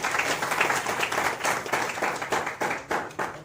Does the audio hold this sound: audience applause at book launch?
yes